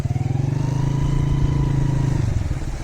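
A motorcycle engine idles and putters with a steady rhythmic thump close by as motorcycles are serviced in floodwater beside the Sutlej river.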